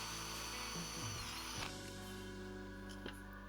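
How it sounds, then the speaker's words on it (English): Power drill boring a small hole in the panel of a Siemens/Bosch self-cleaning condenser dryer, a steady whirring drone that runs close and loud for a few seconds with a brief shift in pitch partway through. "A small hole was drilled."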